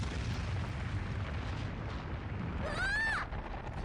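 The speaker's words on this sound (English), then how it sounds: "An explosion?" A distant boom goes off near a town in a fantasy anime game, a low rumbling burst under steady background noise, followed by a brief rising whistling tone.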